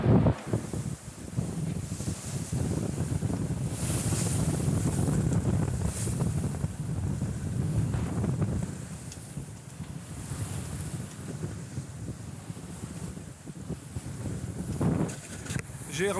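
A sailboat under full genoa and a reefed mainsail in 15 to 20 knots of wind, with constant wind roar and wave wash against the hull, and a voice speaking over it.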